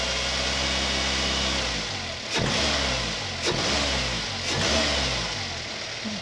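A Daihatsu Terios fitted with a cold air intake runs on Pertalite fuel. It hums at a steady idle, then briefly revs several times, rising and falling, up close.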